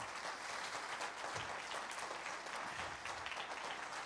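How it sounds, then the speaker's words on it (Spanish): Applause from a church congregation honoring its elderly members, a steady patter of many hands clapping at a moderate distance, somewhat soft but continuous throughout, with no talking. "Dele ese aplauso a nuestros hermanos mayores de edad"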